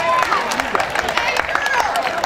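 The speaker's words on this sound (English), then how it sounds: "Let's give a nice round of applause to these guys." An outdoor festival audience at a spaghetti eating contest claps in a steady, dense patter of many hands, with crowd murmur mixed in throughout.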